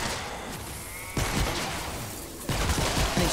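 Bursts of rapid gunfire from a Fire Storm weapon in the video game Fortnite, in two clusters separated by short pauses, punchy and close against a low background hum.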